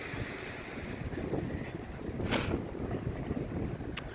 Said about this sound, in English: Today, for example, the wind is really icy.